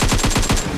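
Rapid automatic gunfire in a video game aimed at a mummy, a quick burst of about seven evenly spaced loud shots in under a second.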